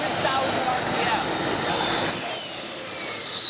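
A high-speed electric motor spinning up to 100,000 RPM gives a loud, close, piercing whine over a broad rushing roar, and its pitch climbs steadily through the stretch.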